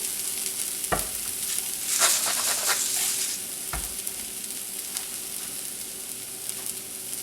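A rack of lamb browns in a pan with a steady, bright sizzle throughout, broken by a couple of sharp knocks and some scraping as it is stirred or turned.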